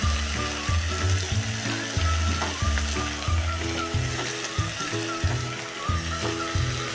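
Washed rice fries in oil with tomato and coriander, giving a steady crackling sizzle under a rhythmic, pulsing tonal background that repeats throughout.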